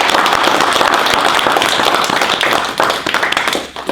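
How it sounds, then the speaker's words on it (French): An audience at a talk on social media legal rules gives the speaker a burst of close, lively hand clapping that thins out slightly toward the end. "Je vous propose de remercier Emmanuel en l'applaudissant."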